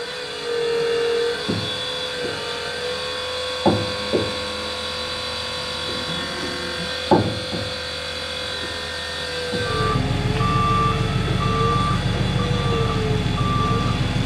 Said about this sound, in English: For an electric forklift, that thing's a little beast.